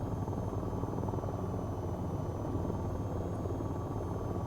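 The AH-94 attack helicopter in the flight game VTOL VR drones in a steady, loud rotor and engine roar with an even, unbroken thrum throughout and no voices.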